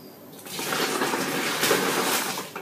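Liquid poured into a container during home brewing, a steady splashing gush running continuously at close range.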